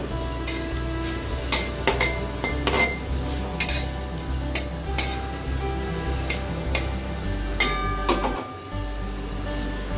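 Whole garam masala spices being stirred in a hot kadai, with frequent metallic clinks and scrapes of a spoon against the pan at an irregular pace over a low steady hum.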